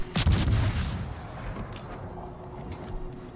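The Zao cruiser's naval guns firing in World of Warships, a short heavy salvo of booms at the start that fades into a low rumbling tail and quiet background hum.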